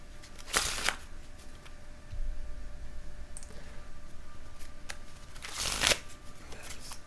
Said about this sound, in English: Give him the shuffle. Give him that bridge.